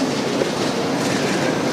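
A high-speed train running at about 350 km/h, heard as a steady, loud broadband roar with faint rail rumble and no voices.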